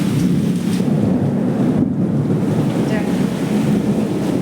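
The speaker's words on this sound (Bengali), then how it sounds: "প্রচুর বাতাস" Strong wind blusters loudly and steadily, buffeting the microphone with a deep rumbling roar and rushing hiss.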